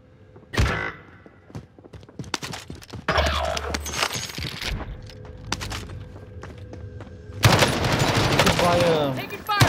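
Machine-gun bursts and scattered single shots from the online shooter Call of Duty Cold War Warzone, with a long loud volley near the middle and another near the end, mixed with footsteps, thuds and a voice talking.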